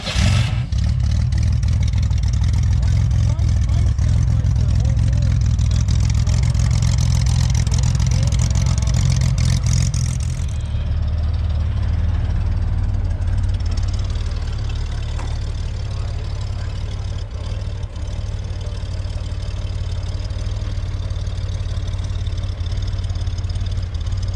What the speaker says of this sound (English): I want to hear your starter motor.